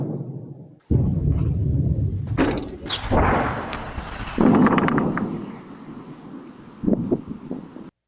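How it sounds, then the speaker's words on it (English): A meter-wide meteor explodes in the sky over Massachusetts, caught on a security camera as a deep rumbling boom followed by a second blast, with crackling and wind-like rushing trailing off afterward. "a meter-wide meteor exploding in the sky somewhere over Massachusetts"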